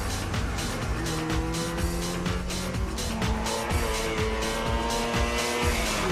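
Goggomobil 300 RS at full throttle on a test track handling course: a loud, steady engine drone with rising and falling pitch as it shifts, accompanied by tire squeal, heard close and continuous.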